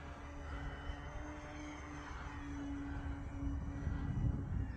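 An E-flite Beechcraft D18 radio-controlled model plane flies overhead outdoors, its steady engine drone fairly faint and continuous, swelling slightly toward the end with no talking.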